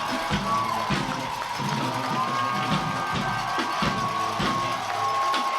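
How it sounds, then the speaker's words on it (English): The home crowd at a Covington High School football playoff game roars and cheers steadily, a loud, dense wash of voices filling the stands. "This is the loudest the Covington crowd has been tonight"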